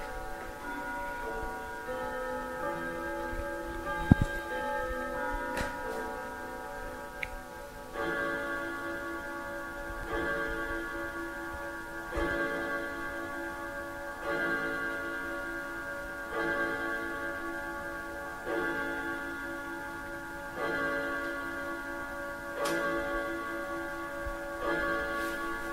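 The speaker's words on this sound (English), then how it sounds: "Beautiful grandfather clock." A grandfather clock ticks steadily and chimes a long ringing melody of tones that repeat in phrases and sustain in a quiet room, with a few sharp knocks early on.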